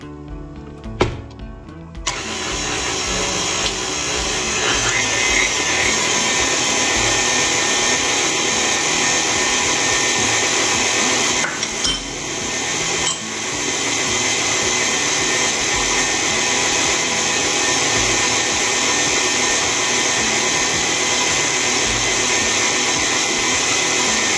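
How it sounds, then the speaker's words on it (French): An electric mixer whirs continuously through cupcake batter after the second half of the milk goes in. The steady, loud motor drone starts after a brief pause and holds for well over twenty seconds, with a short dip midway. "Nous allons ajouter maintenant l'autre moitié du lait. Et nous allons juste mixer pendant 1 minute et nous allons arrêter."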